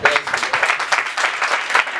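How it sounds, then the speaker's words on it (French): An audience applauds at a school integration day, with rhythmic bursts of clapping that swell and dip in a loose pulse across the short stretch, loud and close, with some crowd noise mixed in. "Sous vos applaudissements, s'il vous plaît."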